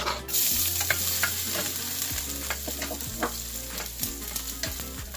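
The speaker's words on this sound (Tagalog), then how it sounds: "Mainit na yung aking mantika. Ilalagay na natin yung garlic." Garlic dropped into hot oil for chicken tinola sets off a loud, steady sizzle, with regular scrapes and taps of stirring throughout.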